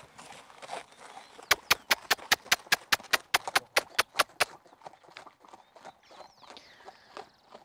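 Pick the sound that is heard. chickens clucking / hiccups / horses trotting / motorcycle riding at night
horses trotting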